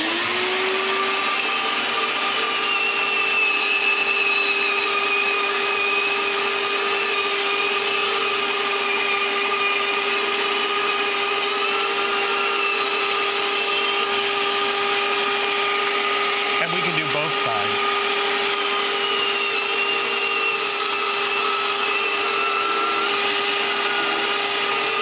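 A small Proxxon bandsaw cuts through wood with a constant motor whine and steady buzzing blade noise that continues unbroken, with a brief dip in pitch partway through.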